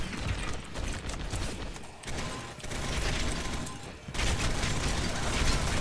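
Dense, continuous gunfire in the video game Gotham City Impostors, rapid overlapping shots and mechanical clatter filling the whole stretch at steady loudness, with a brief dip midway before the firing resumes.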